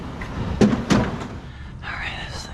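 A heavy fire door is shoved and shifted, giving two solid thudding knocks followed by a scraping, grinding slide, close and fairly loud in a quiet space at night.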